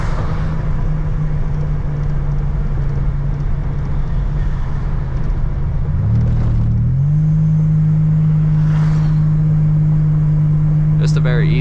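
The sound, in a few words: 1986 Buick Grand National engine while cruising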